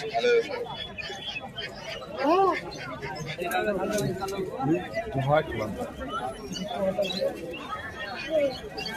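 Pigeons cooing and fluttering at the Beldanga pigeon haat, a busy rural bird market, with a dense babble of voices and crowd chatter running underneath throughout.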